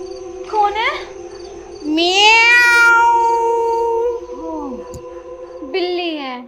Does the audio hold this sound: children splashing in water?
no